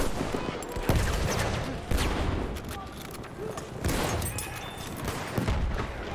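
Gunfire in the first world war shooter game Battlefield 1: rapid bursts and single sharp shots with booming thumps, dense and loud, repeating in waves over about six seconds, with a voice talking at times.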